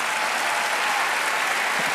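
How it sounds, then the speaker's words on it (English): Audience applause after an author's talk with Louise Penny, a dense, even roar of many hands clapping at once, steady and sustained with no talk over it. "Everyone applause for Louise."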